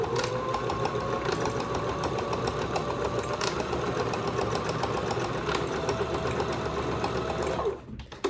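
A sewing machine stitches forward and backward over a tote bag seam to reinforce it, a steady, fast mechanical whir and rattle running continuously up close before stopping abruptly at the end.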